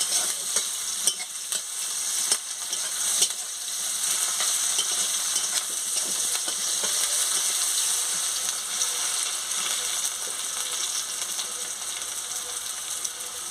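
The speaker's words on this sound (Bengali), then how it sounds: "জিরেটা দিয়ে দিচ্ছি দিয়ে ভালো করে ভেজে নিচ্ছি মশলাটাকে ভালো করে ভেজে নিচ্ছি" Spice paste with cumin fries in a pan, a steady loud sizzle filling the whole stretch, with scraping stirs and a few sharper clicks near the start.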